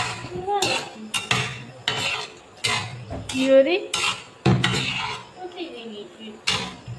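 A metal spatula clanks and scrapes rhythmically against a pan while garlic cloves and dried chilies fry in oil for a potato fry, the strikes loud and close over a faint sizzle.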